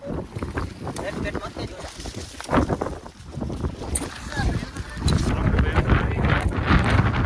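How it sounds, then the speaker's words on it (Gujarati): Strong wind during heavy rain in a village buffets the microphone in loud, rumbling gusts, with water sloshing around a boat and voices talking faintly underneath. "આ પવન ખેંચે છે"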